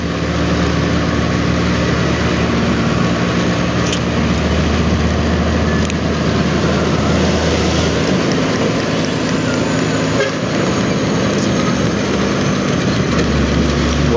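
A motorcycle engine sputtering under the rider, heard as a continuous rumble mixed with heavy wind and road noise, steady and loud for the whole stretch.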